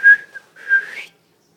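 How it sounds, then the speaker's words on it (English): Two short whistled notes from a person, close and clear, with a brief pause between them. "I can barely whistle."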